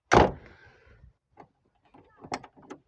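Car door on a Volkswagen Passat B3 opening: one sharp, loud latch clunk at the start, followed by quieter faint mechanical clicks and rattles spread over the next seconds.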